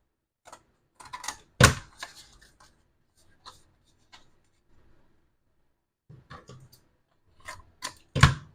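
Scissors snipping through paper for a mini album craft project, a series of sharp close clicks and cuts in irregular bursts with quiet gaps between them.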